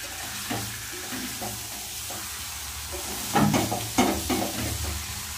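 Chicken and potatoes sauté in a pan, with a steady sizzle broken by a few close, scraping stirs. The stirring grows heavier toward the end.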